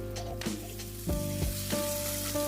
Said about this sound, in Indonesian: kemudian tumis bumbu sampai matang dan tanak